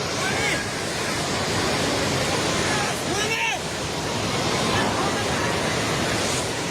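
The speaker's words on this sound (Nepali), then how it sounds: "पानी नजिक आइसकेको छ" Floodwater rushes through Trishuli bazaar in Nepal during a flood, making a steady, loud, broadband roar that fills the whole stretch without a break.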